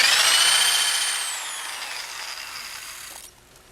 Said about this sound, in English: you're going to want to bring the drill straight up while it's running